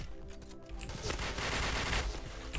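Rapid automatic gunfire rattles loudly and continuously in a shooting video game, with the bursts growing denser toward the end.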